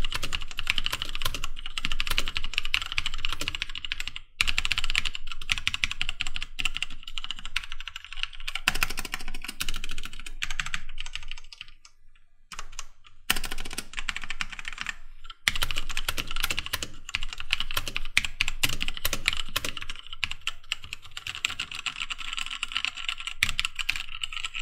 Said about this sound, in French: Voici maintenant le son que font les touches du clavier